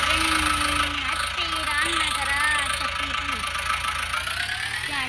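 Tractor engine running steadily in a rice paddy field, a constant mid-pitched rumble and drone under a voice speaking over it.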